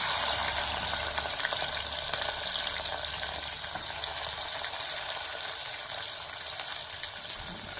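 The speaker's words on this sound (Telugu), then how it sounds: "ఆయిల్ వేడెక్కేసిందండి. ఇప్పుడు మనం దీంట్లోనే ఆనియన్స్, మిర్చి, కరివేపాకు వేసేసుకుందాము." Onions, green chillies and curry leaves hitting hot oil in a pan for a spicy country chicken curry, giving a steady, close, loud sizzle and crackle that holds for the whole stretch with no talking.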